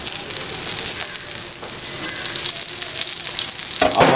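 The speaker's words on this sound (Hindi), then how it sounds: "ऊपर से डालेंगे थोड़ा सा कुकिंग ऑयल।" Cooking oil is poured over sliced onions on a hot sizzling serving platter for chicken tikka, producing a loud, close, continuous hiss and crackle that swells toward the end.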